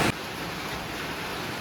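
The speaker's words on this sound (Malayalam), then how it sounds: "ഓക്കെ, നല്ല മഴയാണ് കേട്ടോ ഇവിടെ." Heavy rain falling outdoors, a dense steady hiss that stays even and unbroken after a brief louder burst at the start, with no voices.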